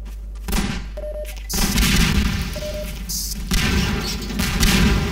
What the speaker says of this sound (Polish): Tym razem z wybuchającymi beczkami.